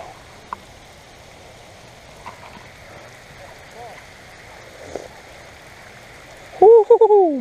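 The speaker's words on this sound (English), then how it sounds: "it is absolutely pouring right now." Heavy rain pouring onto water outdoors during a fishing trip, a steady soft hiss of drops across the surface with occasional splashes, and a voice calls out loudly at the end.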